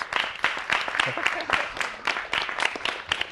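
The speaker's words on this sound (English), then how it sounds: "Everybody give them a round of applause." A round of applause for smoke-free campaign winners, with moderately loud clapping and uneven bursts, and faint voices underneath.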